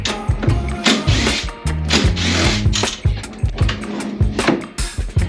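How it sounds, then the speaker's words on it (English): A hand ratchet fitted with a T40 Torx bit clicks steadily in rapid bursts, loud and close, loosening seat bolts inside a Ram Promaster van. "you can use a T40 on a ratchet like this"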